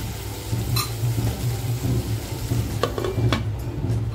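Vajri, mutton tripe, sizzles gently in a pan over a low flame, a steady close crackle with a few sharp metallic clinks of a utensil against the pan partway through.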